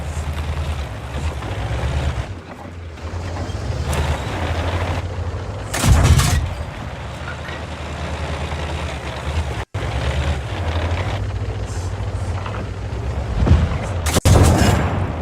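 Tank cannon shots in the World of Tanks video game: two heavy, booming blasts several seconds apart ring out over a constant low engine rumble and tread drone, with no speech.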